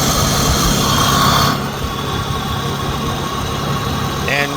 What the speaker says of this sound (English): I want to be able to see what pulley's making noise.